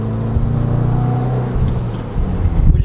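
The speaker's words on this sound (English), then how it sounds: "Honestly, it's a very quiet exhaust" A 2015-17 Subaru WRX with Cobb catback exhaust and Grimmspeed downpipe and J-pipe drones low and steady while cruising, a mild, quiet rumble with slight fluctuations in engine tone.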